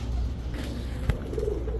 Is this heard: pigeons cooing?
yes